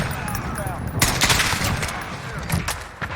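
Rapid SKS rifle fire crackles in Modern Warfare multiplayer, with a burst of loud shots mixed among distant gunfire and game noise, while a player talks over it.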